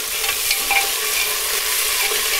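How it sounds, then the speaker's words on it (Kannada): Field beans and potatoes frying in a little oil after onions, a dense continuous sizzle with light stirring scrapes, close and fairly loud with no voices. "ಅವರೆಕಾಳು ಮತ್ತು ಆಲೂಗೆಡ್ಡೆನ ಸ್ವಲ್ಪ ಎಣ್ಣೆಯಲ್ಲಿ ಫ್ರೈ ಮಾಡಿಕೊಂಡು"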